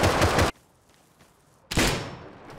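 Explosive-ammo gunfire in the Rust video game, aimed at a small base: two loud, sharp blasts, the first lasting about half a second and the second trailing off into a lingering decay, with quiet between them.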